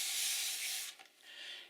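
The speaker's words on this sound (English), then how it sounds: "I'm just going to spray a little of the FinalFix on this area here" SpectraFix FinalFix fixative sprays onto a gouache painting in two short hissing bursts, the first about a second long and the second softer after a brief pause, close and quiet.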